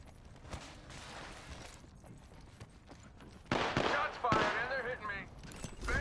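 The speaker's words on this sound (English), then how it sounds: "Shots fired and they're hitting me." Gunfire crackles in the video game Apex Legends, with scattered shots early and then louder, denser bursts of rapid fire in the second half, under and between a player's talking.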